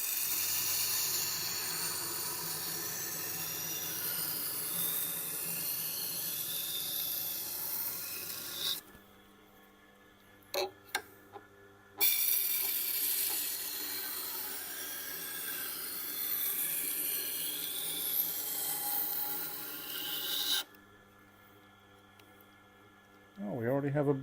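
A Tormek wet sharpener grinds a Wusthof knife on a 1000 grit stone, giving a steady hissing scrape that drops out for a few seconds, then runs again with brief silent breaks.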